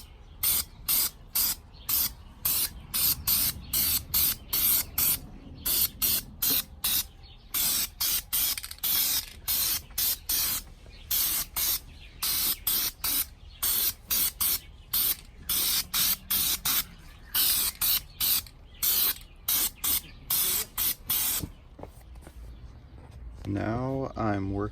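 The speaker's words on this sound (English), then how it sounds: "Unless I can find some like high gloss chrome spray paint, I think I'll just paint it black for now." Short bursts of aerosol spray paint coating an antique post drill part black, a steady run of repeated hissing sprays with brief gaps between them, close and fairly loud.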